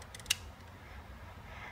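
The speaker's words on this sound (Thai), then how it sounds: "พอถึงเลขหนึ่งอ่ะมันจะมีเสียงคลิก" The film advance wheel of a tiny Holga Micro 110 camera gives a single crisp, close click as it reaches frame one, then only faint handling noise follows.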